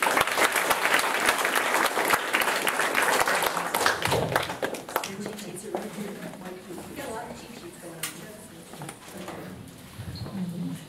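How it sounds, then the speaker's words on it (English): Audience at an evening program applauding, a dense burst of clapping that stays loud for about four seconds, then thins into scattered claps under murmuring voices. "give a nice round of applause to Michelle Abramo."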